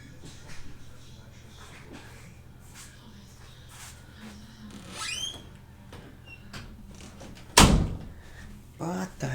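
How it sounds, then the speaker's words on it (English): Sharp, loud knock or thump against a window, a single heavy hit late on, following a stretch of talk and shuffling room noise. "There's someone knocking on my window."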